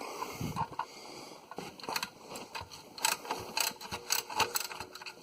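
A ratchet working a bolt on a 2008 Ford F-150 engine during alternator, idler and tensioner bearing repair, giving rapid metallic clicking bursts and scrapes, close and moderately loud, no speech.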